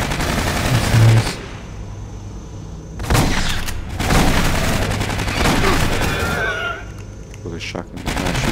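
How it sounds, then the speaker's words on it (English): Shotgun blasts in the Aliens: Colonial Marines video game come as several loud, heavy bursts spread across the stretch, with quieter gaps between them and busy game noise underneath. "With a shotgun, I'm gonna shoot that"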